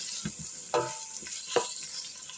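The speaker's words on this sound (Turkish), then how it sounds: "Biraz da fasulyeleri kavuruyorum." Beans sizzle and fry steadily in a pan, with a few louder stirring scrapes and pops punctuating the hiss.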